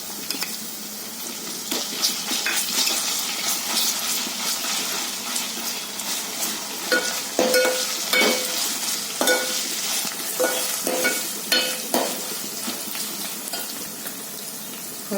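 Crushed ginger and garlic sizzle steadily in a hot pan, with scraping stirs and clinks of a spoon growing more frequent in the second half. Close and continuous, with no talking.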